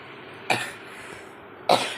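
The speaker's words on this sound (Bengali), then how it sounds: "সরি একটু কাশি পেয়ে গেল গো" Two sharp, separate coughs from a person, the first at about half a second and the second near the end, each a short harsh burst standing alone against a quiet room.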